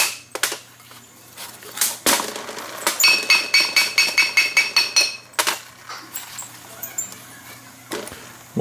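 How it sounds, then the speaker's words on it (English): A soft hammer strikes a Dana S111 axle's brake rotor to separate it from the hub. About a dozen sharp metallic knocks come in a steady, quick rhythm, with a few scattered taps before and after. "use a soft hammer"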